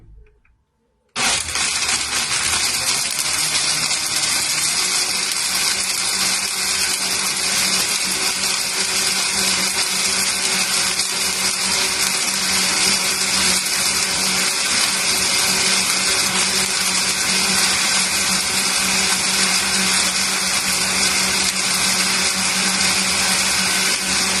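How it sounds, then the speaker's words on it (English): A blender whirs chia or flax pudding: after a short handling noise, it switches on abruptly and runs as one loud, steady, close-up whine for over twenty seconds. "So, okay, we're going to blend this first. See how long it takes. It's going to get loud for a second."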